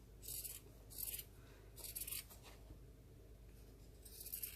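Scissors snip and rasp along the edges of a playing card box being made into a junk journal cover, a few quiet, close cuts in short bursts over a low background hum.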